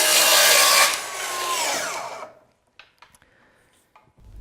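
Festool HKC 55 cordless circular saw running along its rail through wood, a loud close whine and cutting rasp for about two seconds that fades as the blade spins down, followed by a few faint clicks and handling knocks.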